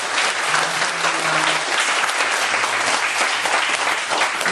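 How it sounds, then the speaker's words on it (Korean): Church congregation applauding at an evening service, steady, full clapping from many hands throughout, fairly loud and even with no break. "우리 박수하겠습니다"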